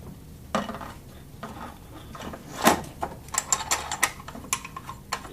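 Screws fastened by hand to mount the wheels on an LTL-XL retroreflectometer, close metallic clicks and ratcheting taps in a quick irregular run, with a sharper clack midway.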